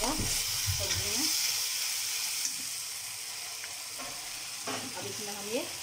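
Garlic fries in oil for a jackfruit curry, giving a soft, steady sizzle broken by a few scraping stirs of a spoon in the pan, moderately close, with no talk.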